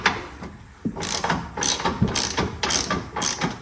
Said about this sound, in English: I'm going to tighten that nut.